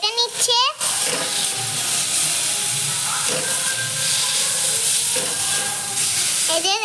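Potatoes added to a pan sizzle loudly as they fry in a village kitchen, a dense, steady hiss close by, following a short burst of voice at the start and with occasional stirring knocks.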